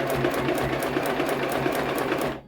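Sewing machine stitching a pillow made from Dollar Tree drying mats, a loud, steady motor whir with rapid needle ticks, running continuously close up and stopping at the very end.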